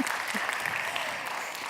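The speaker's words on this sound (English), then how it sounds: "You guys give Soren a round of applause." A small audience claps for Soren, the model at a dress-to-impress outfit session, a brief, fairly quiet burst of steady applause with no talking over it.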